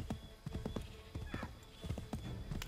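Horse hooves clip-clop in a steady trotting rhythm in Assassin's Creed 3, fairly close and moderately loud, with a brief whinny-like sound partway through and faint game audio underneath.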